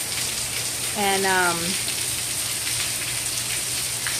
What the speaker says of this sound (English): you can see it's coming down so hard that my gutters cannot